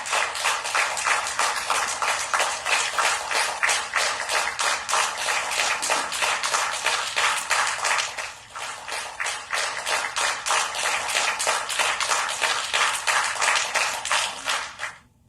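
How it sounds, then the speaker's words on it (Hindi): A cabinet gathering applauds to welcome Prime Minister Narendra Modi with sustained, fast, crisp clapping from many hands. The clapping dips briefly midway, then carries on loudly until it stops abruptly at the end. "जैसे यहां पर पहुंचे तालियों से प्रधानमंत्री नरेंद्र मोदी का स्वागत किया गया है।"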